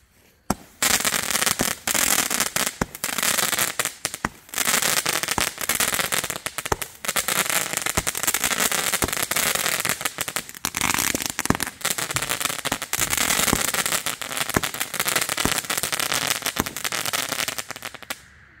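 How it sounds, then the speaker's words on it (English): A Dakota Crackler firework crackles loudly and without a break for nearly eighteen seconds, a dense rapid string of sharp pops and snaps that starts abruptly and ends with a short fade. "Light of the World Fireworks gonna be doing this Dakota Crackler."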